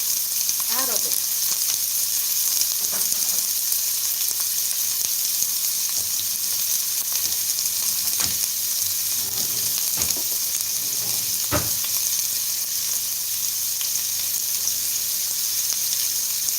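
Onions sizzle steadily in a frying pan on the stove, a continuous hiss broken by a few brief clatters and stirring scrapes, with no talking over it.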